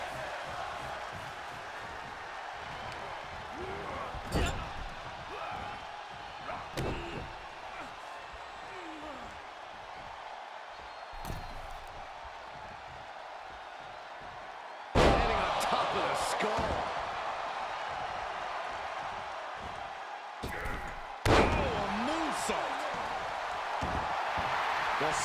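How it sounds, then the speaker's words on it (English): A wrestling arena crowd in WWE 2K22 for Isaiah "Swerve" Scott versus The Brian Kendrick, a steady roar with sudden loud surges of cheering and impacts, under commentary. "This crowd is deafening, and he's asking for more."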